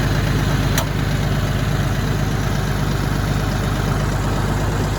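A tractor engine runs in low gear while pulling a tree stump through snatch-block pulleys, a loud steady low rumble with a single sharp click near the start.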